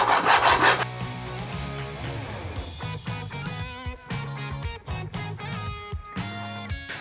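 Loose lacquer is scraped off the body of a Telecaster guitar in a workshop, producing a steady run of close, rough rubbing strokes that begins louder and continues in short, uneven bursts.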